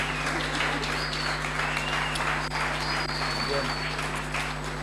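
Steady, dense clapping from an audience applauding a group of kids at a youth camp event. It holds an even level for the whole span over a low hum, with a few faint whistles or shouts mixed in.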